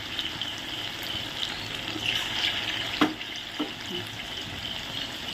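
Onion fritters (piyaji) frying in oil, giving a steady, close sizzle and bubbling hiss with a couple of louder pops and crackles partway through.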